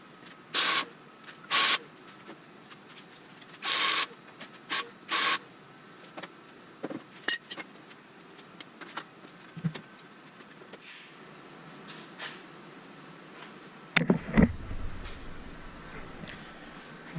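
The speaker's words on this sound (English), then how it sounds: "Okay, got that tacked in place." Tack welding front brackets onto a Dana 60 axle gives several short, crackling buzzes of a second or less, close by, separated by quiet gaps and followed by clanks of metal handling.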